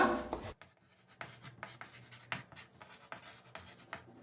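Chalk or a marker scratches across a classroom board in short strokes and taps while biology notes are written, faint and close, with brief gaps between strokes.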